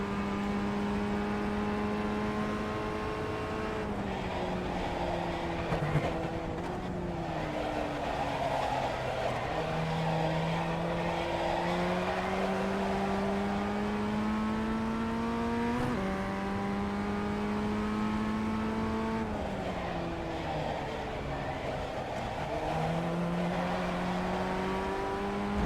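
Open-wheel FF1600 race car lapping Motorsport Arena Oschersleben in the iRacing sim, its engine droning steadily and climbing in pitch through the gears, then dropping on braking and downshifts, continuous from cockpit view.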